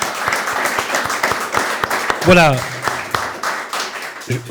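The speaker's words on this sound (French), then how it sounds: "Applaudissements" A studio audience claps in a short burst of applause with distinct, fairly sparse hand claps, while a voice speaks briefly over it.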